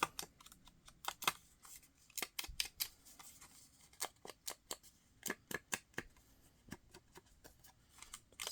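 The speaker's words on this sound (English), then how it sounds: "I'm going to have to cut it and retie it" Small scissors snipping repeatedly at string or ribbon, a long irregular run of crisp metallic clicks and snips, close but quiet with no talk.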